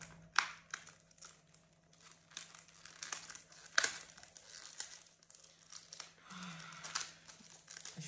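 Pregnancy test packaging being opened by hand, with close, steady crinkling and tearing of wrapper material and a few sharper rips, over a low constant hum.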